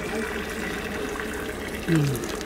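Hot water pours steadily onto basmati rice in a container, with a voice speaking briefly over the flow.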